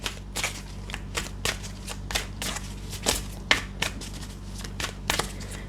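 A deck of tarot cards is shuffled up close, a rapid run of crisp riffling slaps and flutters in a loose rhythm over faint low room hum, with no talking.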